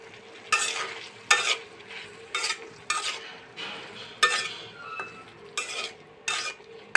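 Bitter gourd frying in a pan with turmeric and salt hisses steadily while a spatula scrapes and stirs in regular strokes, each stir bringing a loud rustling, clattering burst, close and without talk.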